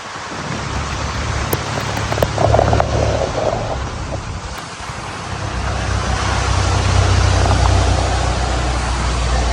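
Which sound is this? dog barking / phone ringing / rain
rain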